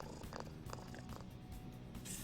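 A cat in Persona 5 Royal purrs in a soft, continuous rumble with faint rhythmic pulses, quiet and alone.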